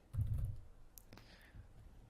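A computer keyboard gives a short burst of quiet typing, then a few isolated key clicks in a near-silent room.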